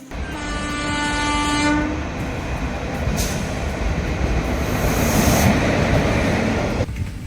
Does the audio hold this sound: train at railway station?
yes